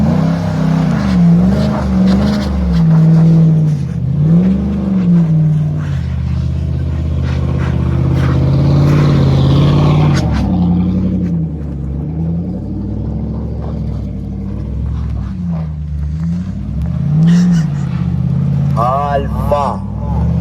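Lexus truck engine rally driving on snow, revving in repeated rising and falling surges, loud and close, with people talking over the roar throughout.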